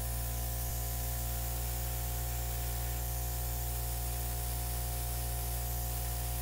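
Airbrush spraying acrylic paint in an acrylic pouring flip and drag technique, a steady loud continuous hiss with a constant hum beneath, close and alone.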